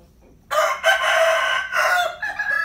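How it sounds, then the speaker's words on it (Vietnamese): A rooster crows once, loud and close, a long drawn-out call that holds for a couple of seconds before trailing off. "gà bướm nè"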